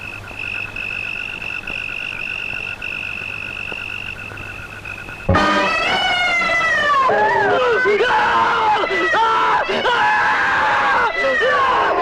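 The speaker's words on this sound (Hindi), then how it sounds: "क्यों चिल्ला रहे हो?" A person screams loudly and suddenly after a quiet stretch of night insects, breaking into prolonged, wavering wails and shrieks that continue close up to the end of this scene from the 1988 Hindi horror film Veerana.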